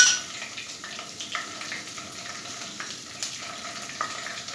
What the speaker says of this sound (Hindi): ऑयल हमारा गर्म हो चुका है, जीरा ऐड कर देंगे। साथ ही हम ये कुछ मसाले हैं ये ऐड करेंगे।